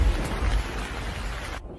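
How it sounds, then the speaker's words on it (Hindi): A storm breaks in a village setting: a low rumble of thunder over a steady hiss of rain, loud and enveloping, cutting off abruptly at the end. "तभी बादल के गरजने की जोर से आवाज आती है और बारिश शुरू हो जाती है।"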